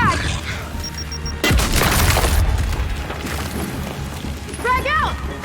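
A frag grenade goes off in Gears 5 with one sudden, loud blast partway through, its roar trailing off amid gunfire and combat noise.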